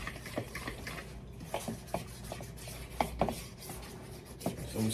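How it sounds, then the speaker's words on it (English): Batter of overripe mashed bananas for fritters is stirred in a bowl, with irregular soft knocks and scrapes of a spoon against the sides. "So I'm stirring this in"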